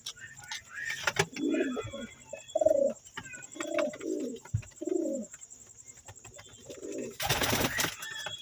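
A pair of baby Madras pigeons coo in a series of soft, low, repeated calls close by, with brief rustling and a burst of noise near the end.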